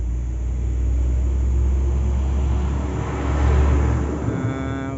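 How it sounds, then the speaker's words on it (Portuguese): A truck passes by outdoors, a loud continuous low engine rumble and whir that swells and fades slightly over several seconds, with no speech over it. "vai passar um caminhão aqui agora, vai fazer um som um pouquinho alto"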